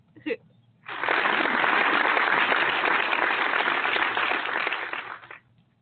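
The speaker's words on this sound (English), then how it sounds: "Let's applaud him right now." Audience applause rises after a brief vocal burst and holds as a dense, steady wash for about four and a half seconds before cutting off, loud and close.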